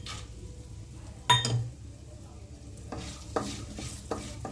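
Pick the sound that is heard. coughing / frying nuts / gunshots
frying nuts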